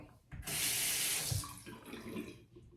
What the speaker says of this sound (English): I'm going to wet the razor.